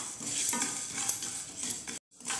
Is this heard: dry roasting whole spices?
yes